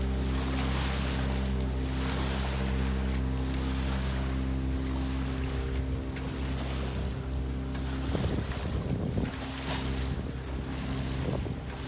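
A sailboat motors straight into the wind on open water, with a steady low engine drone under constant wind rush and waves slapping the hull.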